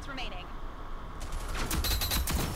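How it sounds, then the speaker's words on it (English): Sniper rifle fire in the shooter game Rogue Company, a burst of sharp cracking shots in quick succession in the latter half, with a voice talking over the game sounds. "I hear a sniper"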